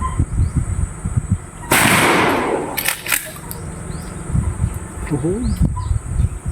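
Gunfire at the Mangyan Shooters firing range in Pinamalayan: one loud, sharp blast followed by a second shorter report about a second later, over outdoor background noise with faint voices.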